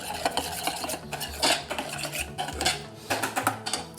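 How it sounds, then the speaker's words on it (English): A spoon stirs a thick, creamy deviled-egg filling in a bowl, scraping and clinking against the sides in an uneven series of close, moderately loud strokes with no talking. "I'm going to stir this and set it aside until I add the egg yolks to this"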